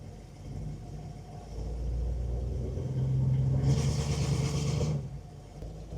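A 1961 Buick engine runs in reverse as the brake is released, giving a steady, close low rumble that swells slightly midway, with no talking.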